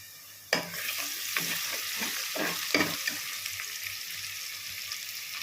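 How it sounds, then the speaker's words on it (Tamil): Onions for prawn biryani sizzle and fry steadily in a pan, with repeated scraping stirs of a spoon through the hiss; no one speaks. "வெங்காயத்தை வந்து நல்லா வதக்கிக்கணும்"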